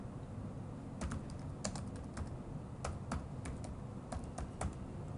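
Typing on a computer keyboard while entering a product description for an online marketplace listing: irregular bursts of quiet, close key clicks over a steady low hum, with no talking.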